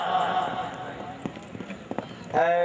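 Horse hooves clip-clop in sharp, scattered strikes at a horse riding competition in Pakistan, heard under a commentator's amplified voice and crowd noise.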